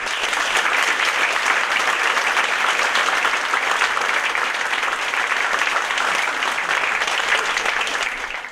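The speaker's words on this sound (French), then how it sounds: "Vous pouvez les applaudir." An audience at the official inauguration of a French care home for the elderly applauds the staff with steady, dense clapping at moderate volume that carries on evenly for several seconds and then starts to fade.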